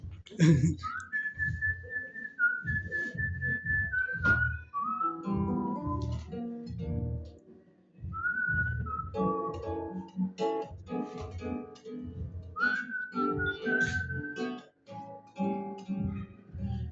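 A bright whistled melody carries over a backing of music, with a singing voice coming in under it later on.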